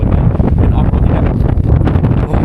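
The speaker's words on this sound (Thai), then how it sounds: "ลมแรงมากๆ" Strong wind buffets the microphone of a Honda Africa Twin rider crossing a mountain pass around 1,500 m in South Africa, a continuous loud roaring rumble with gusty fluctuations throughout.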